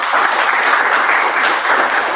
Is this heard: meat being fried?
no